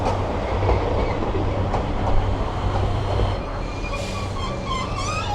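Metro-style train carriages in Japan run along the rails with a steady loud rumble and rhythmic wheel clatter, rising into a brief squeal near the end.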